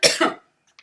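A person gives two quick rough coughs, close and fairly loud, then a faint short throat sound after a brief pause.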